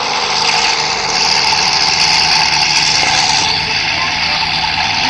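A modified Mustang's engine runs steadily and loudly close by, a constant roar with a bright hissing edge and no breaks across the whole stretch.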